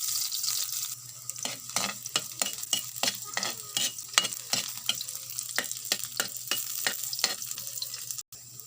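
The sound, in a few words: ginger or garlic sautéing in a pan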